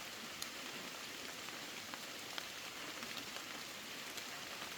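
Steady rain falls in a forest camp, a soft continuous hiss with scattered drops pattering on surfaces, fairly faint and constant throughout.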